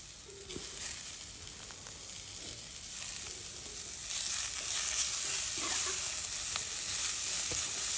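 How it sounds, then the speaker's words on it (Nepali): Coriander and turmeric sizzle in hot oil for a fish curry, a soft continuous frying hiss that grows brighter and louder halfway through, with faint stirring clicks of a spoon against the pan. "धनियाँलाई पनि सँगै फ्राई गर्दै"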